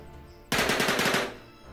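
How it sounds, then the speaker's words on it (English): Gunfire in a WW2 strategy video game, Forgotten but Unbroken: one loud, rapid burst of about a dozen shots lasting under a second, fairly close, with quiet ambience before and after and no talk. "Alright, they're just popping shots."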